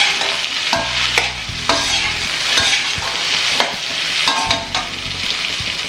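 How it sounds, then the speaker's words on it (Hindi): Sliced okra fries in a pan with a steady close sizzle, and a spoon stirs it with periodic scraping clatters. No voices are heard. "अभी इसे मैं थोड़ा अच्छे से भून लूँगी"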